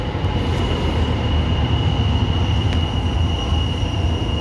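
A Tyne and Wear Metro train at Cullercoats station rumbles steadily and loudly close by, with a sustained high squeal from the wheels running throughout.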